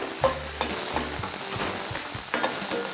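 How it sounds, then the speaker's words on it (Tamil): Green chillies and cabbage sautéing in a pan, likely for kozhukattai filling: a close, steady sizzle with several quick scraping stir strokes and a light clink, no speech. "பச்சை மிளகாவை நம்ம போட்டு அதையும் வதக்கிடுவோம் வதக்கிட்டு முட்டைக்கோஸ்"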